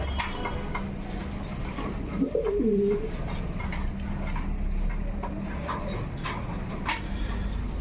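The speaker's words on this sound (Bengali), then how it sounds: "আরেক পেয়ার ডেনিশ কবুতর দেখতে পাচ্ছেন" A Danish pigeon gives a single soft, throaty coo amid steady background noise and faint shuffling.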